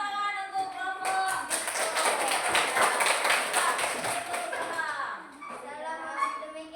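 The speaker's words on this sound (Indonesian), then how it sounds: "Oke, tepuk tangan untuk kelompok." Classroom applause for a group of primary school students, a burst of clapping mixed with lively children's voices that swells and then fades back into chatter.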